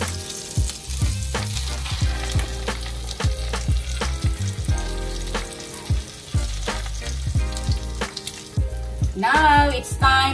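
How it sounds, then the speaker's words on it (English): Breaded pork schnitzel frying in butter in a pan, a close, loud and steady sizzle with frequent crackles and pops, plus a brief burst of sharper spattering near the end. "I'm going to fry now the pork schnitzel, the breaded pork, and then I will put some butter."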